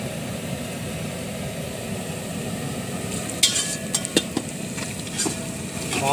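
Sliced onions fry in oil and are stirred as they brown for a two-kilo batch of Madras-style chicken biryani: a steady low sizzle, joined later by a few sharp scrapes and clacks from the stirring.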